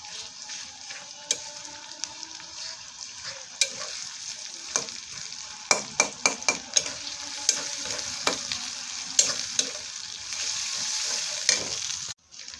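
Ginger-garlic paste fries in a pan for a chicken curry, a continuous sizzle broken by frequent sharp scrapes and taps as a spoon stirs it, close up and with no one talking.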